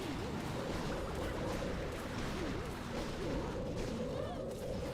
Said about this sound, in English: The ricochet cannon's going off.